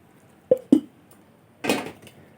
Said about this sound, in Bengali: আমি এখন মিক্সির বাটি ধুয়ে ধুয়ে কিছুটা জল দিয়ে দেব